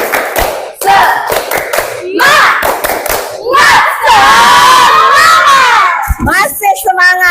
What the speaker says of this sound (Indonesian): Yuk, biar tidak jenuh, kita tepuk semangat dulu.